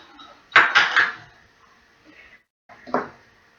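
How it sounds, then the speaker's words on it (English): Knife clattering and scraping against a big blue bowl while bread dough ingredients and a sachet of yeast get mixed, with a loud burst of clinks, a pause, and then one more scrape. "Just mix it round with your knife."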